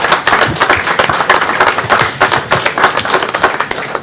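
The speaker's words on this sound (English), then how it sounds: "So let's have an applause for this wonderful group." A commission meeting audience applauds a basketball team after its outstanding season, with dense, steady clapping that rises and falls slightly over the few seconds, loud and close.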